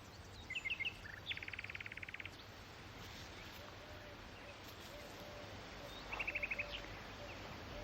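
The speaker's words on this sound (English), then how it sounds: "That's a nightingale." A nightingale sings from trees in an English countryside garden, short bright trilled phrases breaking through at intervals over a steady outdoor wash of wind and rustling leaves, with long gaps between bursts.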